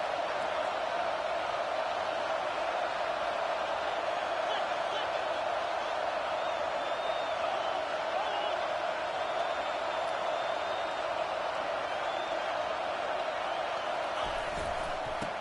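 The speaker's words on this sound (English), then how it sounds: "This crowd is trying to inspire this defense to make a big red zone stop" Football stadium crowd during a Michigan vs Georgia game, a steady, dense roar from a large crowd making noise to urge on the defense before a red zone stop, sustained and even throughout with faint whistles above.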